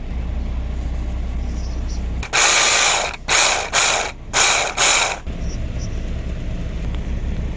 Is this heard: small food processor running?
yes